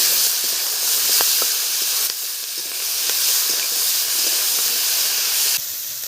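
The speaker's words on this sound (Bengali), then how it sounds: "পেঁয়াজ কালিগুলো ভেজে নেব। অল্প করে দিয়ে দিলাম, দিয়ে একটু ভেজে নেব।" Onion stalks fry in oil with a loud, hissing, steamy sizzle close by, with a few pops and crackles and level shifts as the pan is worked, no voices.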